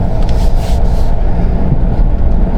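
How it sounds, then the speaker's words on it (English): Loud, steady low rumble of a Chevy rolling along, with a rough scraping drone that fits metal-on-metal grinding from worn rear brakes, continuous and close throughout. "I think I can hear metal grinding"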